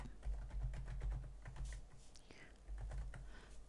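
Computer keyboard typing while entering a macro name in Excel, a run of quick soft key taps with a low background hum and faint bits of voice underneath.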